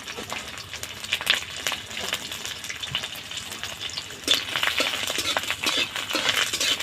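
Garlic and two dried red chillies fry in hot oil in a wok, giving a steady close crackling sizzle with sharp spits and pops that swell in the second half.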